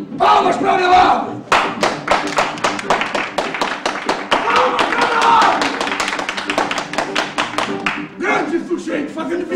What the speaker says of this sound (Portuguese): Palmas pra Abelardo!